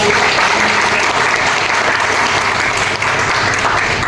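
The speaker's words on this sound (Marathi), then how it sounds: "आपण सगळेजण जोरदार टाळ्या वाजवून कसा" An audience at a felicitation event bursts into loud, dense applause that stays close and continuous from start to end with no voices.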